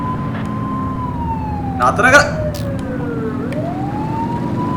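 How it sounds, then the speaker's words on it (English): A police car siren in The Precinct video game wails steadily with slow rising and falling sweeps over a road engine rumble, loud and close, while a voice briefly speaks partway through. "Turn that siren off."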